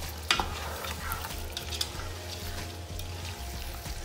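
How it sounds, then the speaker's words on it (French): Rice, vegetables and chicken stirred in a cooking pot, close scraping and clinks of the spoon over a gentle sizzle, with a few sharper knocks and no speech. "après avoir fini de bien remuer"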